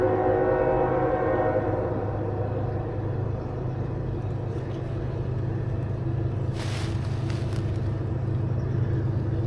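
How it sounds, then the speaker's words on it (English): A coal train rumbles steadily nearby in the woods with low engine drone, and a horn blast sounds briefly near the end over the continuous rolling noise. "Got a train coming here."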